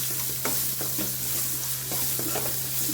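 Onions added to a hot pan for a Rajasthani pyaz kachori filling sizzle loudly and close up, with a steady hiss broken by several scraping stirs of a spoon against the pan and a low steady hum underneath.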